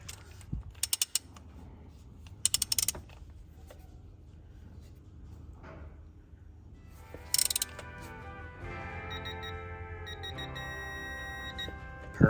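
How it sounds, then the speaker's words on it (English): A torque wrench ratchets on a glow plug of an L5P Duramax engine, giving short bursts of clicking and creaking ratchet sounds at intervals, close and fairly quiet, followed by a steady mechanical hum, without talking. "I've set my torque wrench to 13 foot-pounds"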